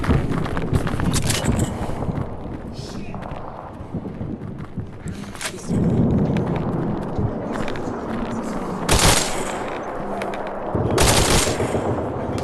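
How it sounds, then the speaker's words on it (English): Machine gun fire in a fast close-quarters video game crackles in long, dense bursts with a few sharper single shots, loud and close, over a busy game soundtrack and occasional talk. "Oh, we have the same machine gun, bro."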